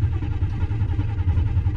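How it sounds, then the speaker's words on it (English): Carbureted V8 with a Quadrajet four-barrel in a 1978 El Camino, cold after sitting several days, running with a steady low rumbling idle that pulses unevenly, close and loud, with no talk. "So if it's cold, it's going to take a little bit to crank to start it"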